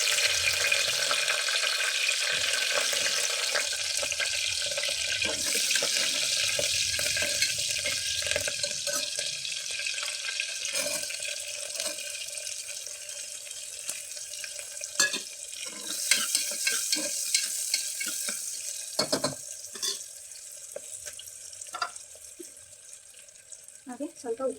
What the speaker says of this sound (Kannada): ಇಲ್ಲಿ ಸಾಸಿವೆ ಕಾಳು ಸಿಡಿದ ನಂತರ ನಾನು ಹೆಚ್ಚಿಟ್ಕೊಂಡಿರೋ ಅಂಥದ್ದನ್ನು ಇದಕ್ಕೆ ಸೇರಿಸ್ತಾ ಇದ್ದೀನಿ.